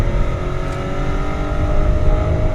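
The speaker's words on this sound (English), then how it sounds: "the engine is so flexible in this 750i" A BMW 750i 7 Series with the Autobahn Package pulls hard around a circuit in third gear. Its engine hums loud and steady from inside the cabin, with no one talking.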